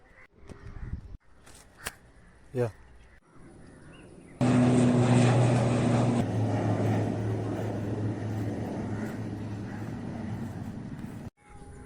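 An airplane at an airport runway beside a highway roars in abruptly and stays loud with a steady droning engine tone, after scattered nearby thumps and footsteps.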